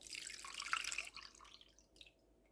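Milk poured into waffle batter in a bowl: a brief light liquid splash and trickle that tapers off over a couple of seconds, quiet and close.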